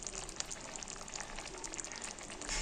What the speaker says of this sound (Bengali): ফুটানো হয়ে গেলেই হয়ে যাবে বাটার পনির মশলা